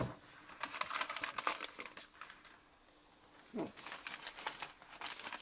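Crinkly plastic rustling in bursts as a plastic bag found inside a Bosch vacuum cleaner box is handled close up, with quieter pauses between spells of crumpling.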